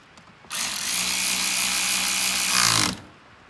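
A power driver whirs steadily for about two and a half seconds, close and loud, as it tightens a nut onto a relay bolt during a cooling fan control install. The motor winds briefly higher before cutting off.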